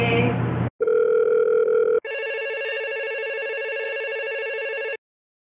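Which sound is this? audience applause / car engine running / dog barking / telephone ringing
telephone ringing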